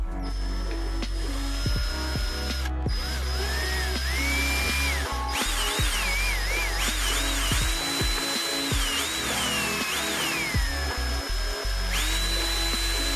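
Power screwdriver backing out Phillips head screws from the tweeter of a JVC MX-GT700 speaker system, heard up close as a steady whirring drill tone with rising and falling pitch sweeps, running nearly continuously.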